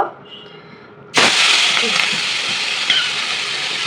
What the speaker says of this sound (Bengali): তার ভিতর তেল দিয়ে দিয়েছি, তেলটা গরম হয়ে এসেছে। এখন আমি মাছগুলো দিয়ে দিব।